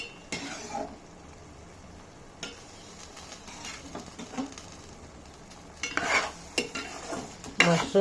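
A spoon stirs fried mushrooms into masala gravy in a pan, with soft scraping and occasional metallic clinks against the pan, growing louder and busier toward the end.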